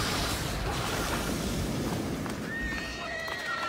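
Horses neigh in a burning stable in the video game Trine 5, set against a dense roar of flames. A couple of high, wavering whinnies break through late, moderately loud.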